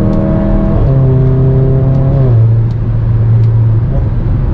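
A modified Volkswagen Beetle with a TSI engine making over 300 wheel horsepower and a Magnaflow exhaust revs and pulls hard uphill, its tone climbing then dropping with gear shifts, loud and close throughout with no talking.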